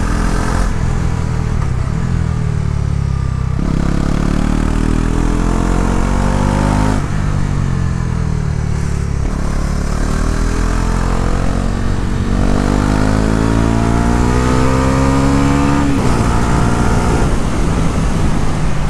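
Bajaj Pulsar NS400z motorcycle engine heard while riding, a loud steady drone with rising and falling pitch as the rider shifts through gears, continuous throughout with no talking.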